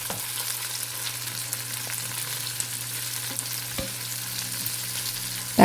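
Tomato sautés in oil with ginger garlic paste in a pan for chicken thokku, giving a steady, moderately loud sizzle and fry with a few soft stirring clicks, and no voices.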